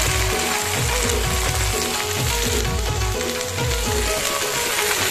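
Leafy greens (bhaji) frying in a kadhai over tempered spices: a loud, steady sizzle with rhythmic scraping and stirring clatter running throughout.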